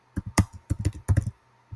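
Typing on a computer keyboard, a quick close burst of individual key clicks in short uneven clusters, ending in a single final tap.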